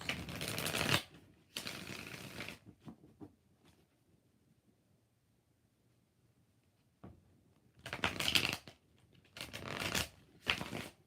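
Tarot cards are shuffled by hand in several crisp, papery bursts, two close together at first, then a long quiet pause before three more rapid shuffles.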